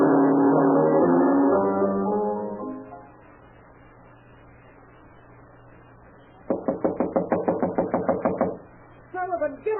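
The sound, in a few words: knocking on a door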